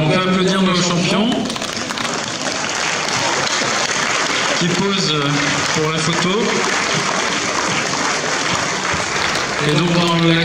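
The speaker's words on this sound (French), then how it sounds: "on peut applaudir nos champions" An audience claps for young chess champions at the award ceremony of the 2018 French youth chess championship in Agen: steady, dense applause running throughout beneath someone speaking over an amplified microphone.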